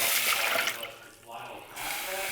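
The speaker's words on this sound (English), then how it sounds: "And with this, I use around 2 cups of water." Water pours in a steady, close rush into a pot of rice for cooking, stops briefly, then resumes, with a voice speaking over it.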